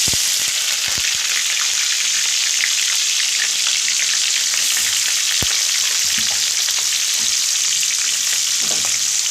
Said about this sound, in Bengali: আমি তেজপাতা, গোলমরিচ আর সাদা জিরে ফোড়ন দিচ্ছি, আর দেব পেঁয়াজ।